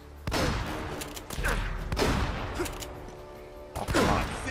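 Shotgun blasts in the video game Uncharted: Drake's Fortune, several heavy, booming shots spaced a second or so apart, each with a short rumbling tail, loud and close.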